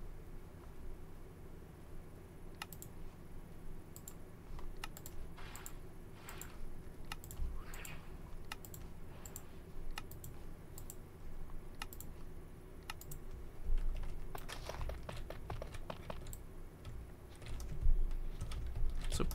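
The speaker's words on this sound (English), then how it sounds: "Trying to remove the clicking sound" A computer keyboard is typed on during a Minecraft modpack session, giving faint, irregular clicks and occasional quick bursts over a low steady hum, with no talking.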